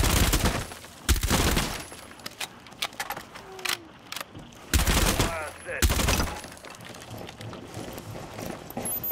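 Gunfire in Rainbow Six Siege: several loud bursts of rapid automatic shots, spaced apart by quieter stretches with footsteps and mechanical rattles, fired close by and shooting through a wall.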